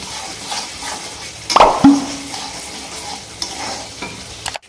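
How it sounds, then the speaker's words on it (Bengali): A spoon stirs masala with added salt and turmeric powder in a pan for prawn malai curry, with a soft sizzle of oil throughout and a couple of distinct scrapes and clinks against the pan. "এর মধ্যে অ্যাড করব আমি লবণ আর হলুদ গুঁড়ো এটাকে ভালো করে নাড়িয়ে নেব"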